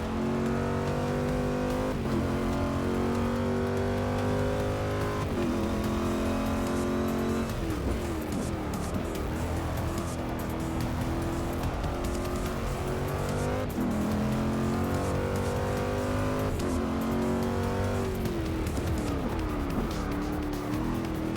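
A race car engine in Forza 6 at the Catalunya circuit, driven in an endurance race with a steering wheel, roars steadily and close throughout, rising and falling through repeated gear shifts with occasional tire squeal and no talk.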